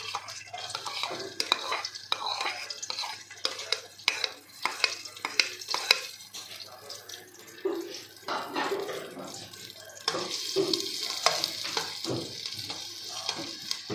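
Garlic frying in a tablespoon of oil for chicken vegetable hot and sour soup, with crackly sizzling and repeated scraping stirs and clinks of a utensil against the pan, close and steady.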